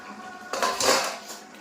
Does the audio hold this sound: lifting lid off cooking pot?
yes